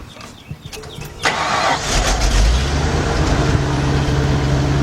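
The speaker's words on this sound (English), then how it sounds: "I'm gonna start the truck up first." A starter cranks briefly and a 1999 Nissan Altima 2.4 engine catches, then settles into a steady, loud idle.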